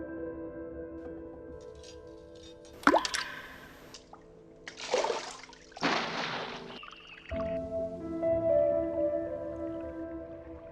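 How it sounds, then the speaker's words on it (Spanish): Water drips strike a floor in a quiet space, a few sharp plopping impacts and splashy bursts standing out over a low sustained hum, with no voices. "el sonido de las goteras de agua impactando en el suelo"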